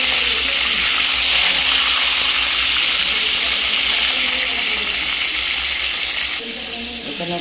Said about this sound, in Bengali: শুধু ভেজে নিচ্ছি ছাঁকা তেলে।